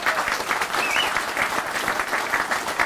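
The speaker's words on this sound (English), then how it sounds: "Round of applause for them" An outdoor crowd at a bypass grand opening applauds a high school marching band and junior ROTC, a loud, continuous patter of many hands that stays strong and even throughout.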